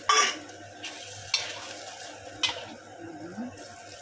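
Vegetable curry with mixed balls being stirred in a pan, a few sharp scraping clinks of a utensil against metal over a soft background sizzle, close and moderately loud.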